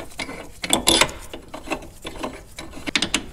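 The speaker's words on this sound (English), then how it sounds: "we'll throw our two supplied bolts in and thread them into the block" Two supplied bolts being threaded into the block to mount an IPSCO big brake kit caliper on a 1996-2002 Dodge Viper, heard as close, uneven metallic rattles, scrapes and ratcheting clicks in bursts.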